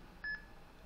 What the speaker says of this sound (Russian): Пикает только.